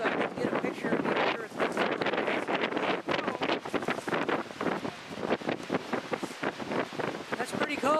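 Strong wind gusting across a microphone at a wharf on Cumberland Island, a loud, rough, continuous rumble with buffeting that covers everything else.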